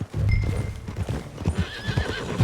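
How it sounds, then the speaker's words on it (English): Horse hooves clip-clop in a steady rhythm inside the Red Dead Redemption 2 video game, with a loud whinny rising partway through, close and clear with no talk. "That a new horse?"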